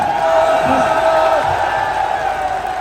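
A large political rally crowd for Imran Khan applauding and cheering, a steady dense wall of clapping and shouts heard from a distance with a sustained tonal hum over it and faint voices beneath.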